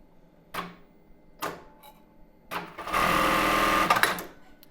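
A few separate clicks and knocks from handling come first, then a sewing machine stitches a seam in embroidered tulle for a bra, a short loud close burst of rapid whirring lasting about a second before it stops.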